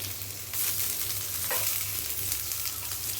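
Vegetarian liver pieces frying until golden, a loud continuous oily sizzle with scraping stirs partway through, heard close and without talk.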